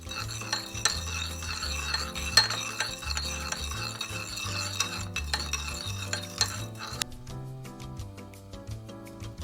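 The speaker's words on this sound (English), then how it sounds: "Mix well until the sugar dissolves." A utensil stirring sugar into dashi in a bowl, a steady rhythmic scraping and clinking against the sides, close and alone, with the strokes thinning out toward the end.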